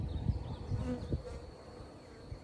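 Honey bees buzz in an opened hive full of brood, a steady, close hum of many insects with no talking.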